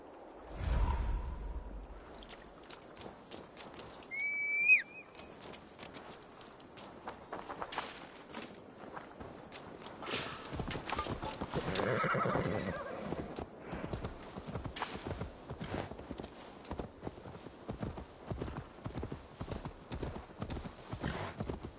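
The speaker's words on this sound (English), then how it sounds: "Now to deliver Magni his horse." Horse hooves clip-clop steadily through most of a stretch of Assassin's Creed Valhalla gameplay, with a brief neigh near the start and a swish, while low game music and ambience run underneath.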